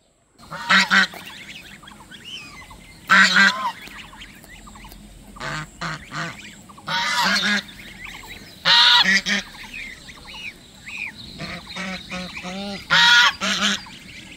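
Repeated loud honking calls from geese or similar birds, coming in bursts across the clip with quieter calls in between, no talking.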